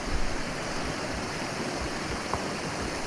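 A steady, rushing water stream in the survival game Green Hell, loud and close, a continuous broadband wash with no talk over it.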